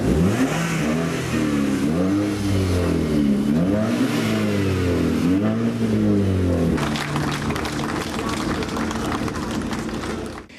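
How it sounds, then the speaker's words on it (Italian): Modified tuning cars rev their engines loudly at a church gathering in Brescia, with rising and falling engine whines repeating in surges, a crowd murmuring beneath, and the roar shifting into a broader, rougher rumble near the end. "È il frastuono dei motori delle auto tuning modificate"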